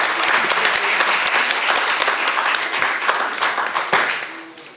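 Applause from a seated audience in a hall at a business conference, steady and fairly dense clapping sustained throughout with no speech over it.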